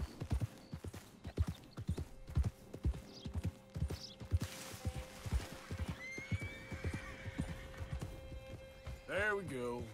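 Horses in the Red Dead Redemption 2 video game gallop with steady, rhythmic hoofbeats, a loud whinny rising near the end over a sustained tone, while a person talks intermittently.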